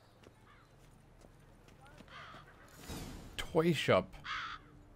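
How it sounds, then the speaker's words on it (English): Crows caw a few times in The Witcher 3: Blood and Wine, harsh calls bunched near the end over horse hooves clip-clopping, with someone talking throughout. "Some crows here."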